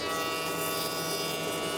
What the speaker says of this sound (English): The router bit on the hammer machine tilts to 45 degrees, so I used it to bevel the edge of the seat.